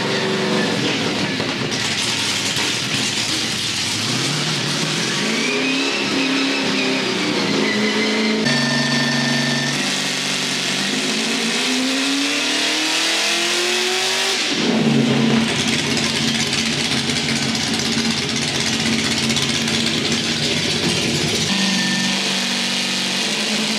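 A Scion FR-S with a new engine revs on a dyno, its tone climbing through long pulls toward 6,500 rpm, loud and close with breaks between sweeps.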